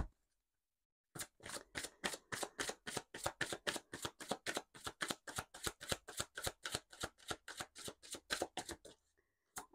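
Oracle cards are shuffled by hand in a quick, steady riffle of crisp slapping flicks lasting several seconds, close and fairly quiet, after a moment of silence.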